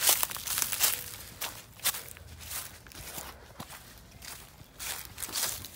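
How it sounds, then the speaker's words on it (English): Footsteps crunching through woodland undergrowth and leaves, a steady run of uneven crackling steps at close range, rising and falling in loudness, with no talk. "I hear footsteps coming closer"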